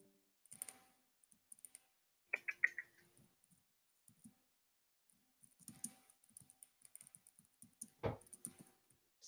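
Computer keyboard typing during a World of Warcraft rated battleground session: sparse, faint bursts of quick clicks scattered over several seconds, with a short tonal chime partway through and no talking.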